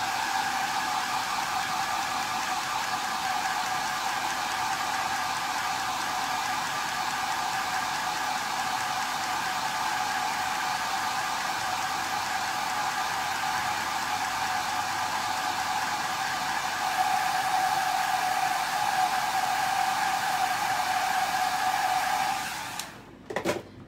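A hair dryer blows steadily on a chalk-stenciled lemon garden flag to dry the ink, a loud continuous rushing whir that runs almost unbroken before cutting off abruptly near the end.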